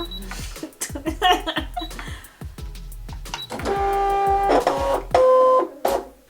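Brother ScanNCut cutting machine at work, a rhythmic series of close mechanical clicks and motor whirs, with higher stepping tones in the second half and brief quiet gaps between movements.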